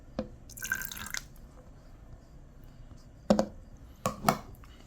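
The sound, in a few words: vanilla extract poured into pancake batter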